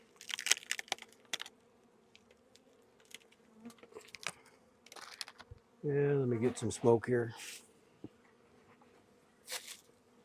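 Honeybees from a nuc hive being inspected, scattered buzzing and brief bee flyby whines around handling clatter, with a short spoken remark in the middle.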